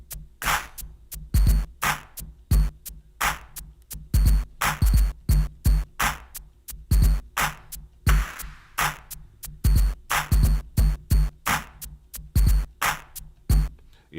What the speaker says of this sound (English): If I push up the Degrade, then we get something interesting that sounds like this.